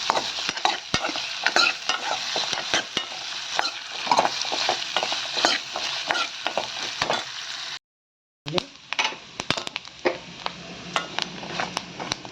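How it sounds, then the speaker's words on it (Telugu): Grated coconut frying in oil in a pan, stirred steadily, a dense close sizzle broken by repeated scraping and clacking strokes of the spoon, with one short silent gap partway through before the frying and stirring resume. "బ్రౌన్గా వేగింది కొబ్బరి ఆయిల్లో"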